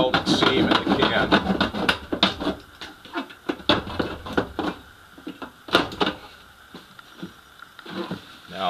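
A knife saws lengthways along the welded seam of a metal can, producing loud, close, irregular scraping and grinding strokes with metallic rattles, denser at first and then sparser, while someone talks.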